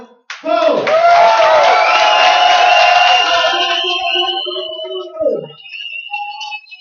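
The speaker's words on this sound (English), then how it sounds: "Listen to the appreciation from the crowd here" A loud crowd roars and cheers in a sustained swell lasting several seconds, then fades into scattered shouts and whistles.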